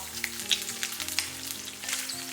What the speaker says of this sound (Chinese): 继续给它煸香， 煸炒出食材的香味。